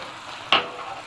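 Carrot halwa with powdered milk being stirred in a pan over low heat, a soft continuous sizzle with one brief scrape of the spoon midway.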